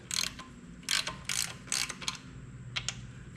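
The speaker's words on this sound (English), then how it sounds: "We've got two bolts here we'll take loose." A ratchet loosens hood bracket bolts on a David Brown 880 tractor, giving several short, close bursts of fast metallic clicking separated by brief pauses, with no talk.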